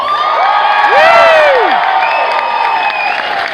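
An audience at a GenCon stage event cheers, whoops and claps together, the crowd noise rising and staying loud for a few seconds.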